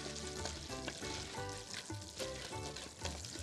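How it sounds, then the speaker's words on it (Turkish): Pasta toasting slowly in melted butter in a pan gives a steady, close sizzle that runs throughout with no one talking. "Önce bir makarnamı yavaş yavaş bir kavuracağım"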